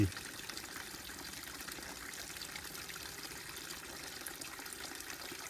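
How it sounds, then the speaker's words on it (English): Water trickling steadily at a small water source along the Appalachian Trail in the Standing Indian area, a continuous close splashing flow with no talk. "Nice little water source here along the AT."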